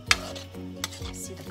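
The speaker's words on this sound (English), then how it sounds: "Stir in the wok." A utensil stirs sautéed chayote in a wok for a vegan Filipino ginisang sayote, giving a few quiet scraping strokes against the metal with a soft sizzle underneath.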